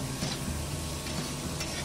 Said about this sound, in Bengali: উচ্ছে অ্যাড করে আর একবার সব কিছু এখানে আমি মিক্স করে দেব